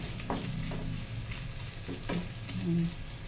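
Kangkong stir-fries in a hot pan, giving a close, steady sizzle broken by repeated scraping stir strokes and a few louder bursts of frying.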